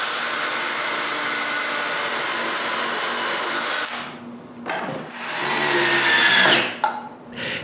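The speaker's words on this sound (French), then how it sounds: "J'ai juste à percer des trous pour retenir le petit morceau en place." Power drill boring holes into wood to hold a small piece of a wooden bandsaw build, a long steady whine, then a brief stop and a second rising run, loud and near.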